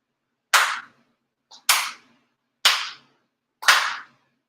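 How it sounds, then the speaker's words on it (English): Four sharp, sincere hand claps in a ceremony, done in unison with the head officiant, evenly spaced about a second apart with a faint tap before the second, crisp and close in an otherwise quiet room. "4 sincere claps along with the head officiant"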